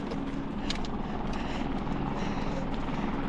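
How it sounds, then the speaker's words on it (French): Helicopter flying over a mountain trail in the Alps, a steady loud rotor drone with faint chopping, continuous throughout and without talk. "Il y a un hélico, c'est pas bon signe."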